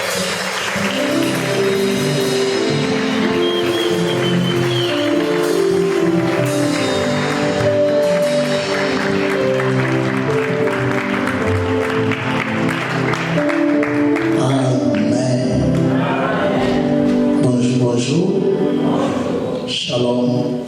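A church audience welcomes a prophet with loud, sustained cheering, clapping and joyful shouting from a large crowd, mixed with musical tones, continuing unbroken for about twenty seconds.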